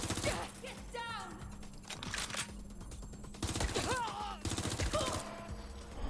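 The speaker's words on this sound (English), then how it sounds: "I'm taking fire!" Gunfire in the video game Watch Dogs Legion: rapid bursts of automatic shots in several loud clusters, mixed with whistling and clattering game effects and mechanical noises.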